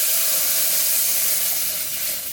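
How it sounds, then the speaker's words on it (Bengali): Water hits a hot pan of fish curry with a loud, steady steaming hiss and sizzle, close and continuous, slowly easing off. "জল দিয়ে দিচ্ছি।"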